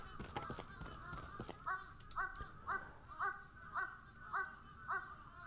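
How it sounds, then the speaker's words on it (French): Birds call overhead in the video game Akai Onna, a series of about eight hoarse, caw-like cries repeating at a steady rhythm, moderately loud, after some brief clattering noise at the start. "il y a combien d'oiseaux là-haut?"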